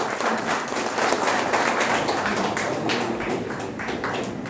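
Audience clapping at a public ceremony, a dense sustained burst of applause that stays loud and even throughout without fading.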